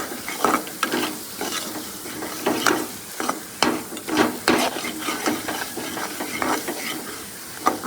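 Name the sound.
roasting and stirring masala in oil for chicken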